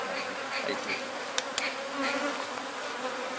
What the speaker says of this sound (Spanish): se siente sabroso cuando pican las abejas